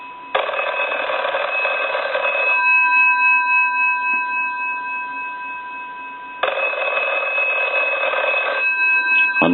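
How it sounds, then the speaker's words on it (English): British desk telephone under repair and conversion ringing in its bell cadence: a loud, steady metallic trill in two bursts, a brief pause, then a long quiet gap before a second ring cycle, with no talking. "I'll go ahead and ring the phone."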